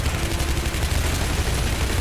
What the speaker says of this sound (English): Oh, the SMG works wonders too.